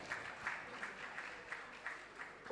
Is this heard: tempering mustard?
no